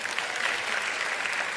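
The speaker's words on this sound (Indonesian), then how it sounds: "kita kasih tepuk tangan buat Malang" Steady audience applause at an Indonesian talk show in Malang, a dense even wash of clapping from a crowd, moderately loud and unbroken from start to finish with no voices on top.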